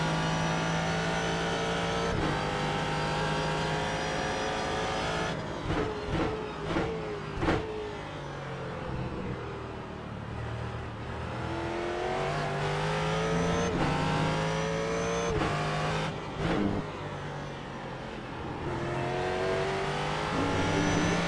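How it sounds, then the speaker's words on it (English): A Ford GT race car engine in the iRacing sim game, droning continuously and loudly as revs climb and fall through gear changes, with sharp downshift blips and rising pitch sweeps. "Downshifted one gear too far going into that corner."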